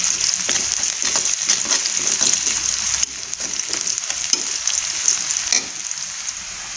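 Onions with a little salt fry in hot oil, giving a continuous close sizzle with scattered crackles and the scrape of stirring throughout.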